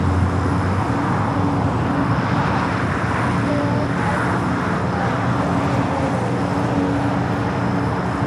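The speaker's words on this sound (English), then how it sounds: "Japan Airlines, the A350-1000 starting its taxi" A Japan Airlines Airbus A350-1000 starting to taxi at LAX, its engines giving a loud, steady, even roar that holds unchanged throughout.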